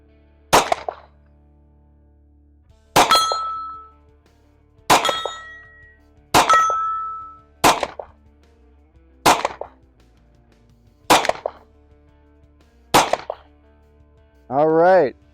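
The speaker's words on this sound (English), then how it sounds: "All right, Ian, we have now emptied a complete magazine" A Glock 23 pistol empties its magazine on a range in seven sharp, loud, ringing reports spaced a second or two apart, with a brief voice at the very end.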